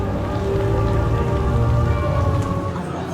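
Steady rain pours over Darkmoor, the gothic themed land at Epic Universe, a dense continuous hiss of drops on surfaces with a low rumbling ambience throughout, no voices rising above it.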